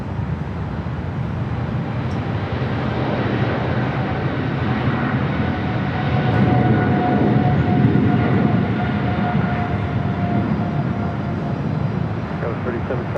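A Boeing 777 freighter takes off at LAX from the south side, a broad, steady jet-engine roar that swells near the middle and holds loud and continuous, with radio chatter faintly in the background.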